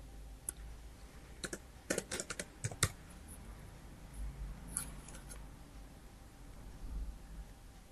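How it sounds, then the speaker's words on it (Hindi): Text typed on a computer keyboard: clusters of quick, crisp key clicks in short bursts with pauses between, close and fairly quiet over a faint room hiss, no talking. "अब अभी मैं रैंडमली कुछ भी टेक्स्ट लिख रही हूँ"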